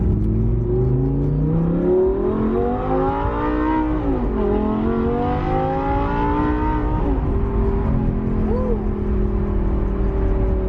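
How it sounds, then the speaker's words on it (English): An Audi R8 V10 fitted with an aftermarket exhaust revs loudly and close by, its pitch climbing, dipping and climbing again through several sustained throttle pulls. "Let's bless these people's ears with a little V10 this morning."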